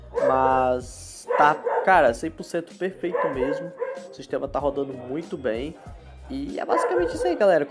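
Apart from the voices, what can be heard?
dog barking in the background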